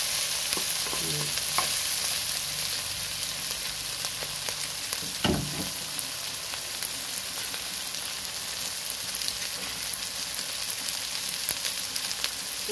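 Boiled pork frying and being stirred in a pan for spicy binagoongan, a steady close sizzle with scraping stir strokes throughout and no talk.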